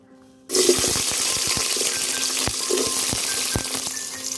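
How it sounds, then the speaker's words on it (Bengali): Green chillies and chopped onion hit hot white oil in a pot with a sudden loud sizzle, then keep frying in a steady crackling hiss broken by a few scraping stirs, with no voices. "এবার তেলের ভেতরে দিয়ে দিচ্ছি কাঁচামরিচ ও পেঁয়াজ কুচি।"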